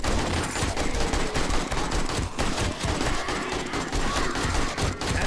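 Heavy, continuous automatic gunfire from a zombie-fighting session in 7 Days to Die, dense rapid bursts filling the whole stretch at a steady loud level with no talking.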